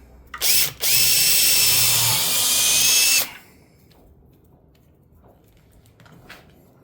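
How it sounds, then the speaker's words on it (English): A power drill whirs steadily for about three seconds close by, drilling through blue tape into an old office chair, then stops, leaving quiet room noise and faint handling sounds. "I'm going to drill down with this blue tape"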